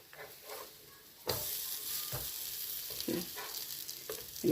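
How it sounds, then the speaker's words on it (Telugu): Corn and spinach fritters fry in shallow oil in a pan on low heat, giving a steady close sizzle that jumps louder partway through, with soft crackling bursts and no talk. "ఇలా సిమ్లో పెట్టి కాల్చుకోవాలి చూడండి"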